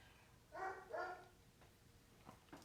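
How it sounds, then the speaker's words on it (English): Copper the dog gives two barks close together, clear but fairly faint in a quiet room, then a couple of softer, smaller sounds follow. "See, there's copper barking."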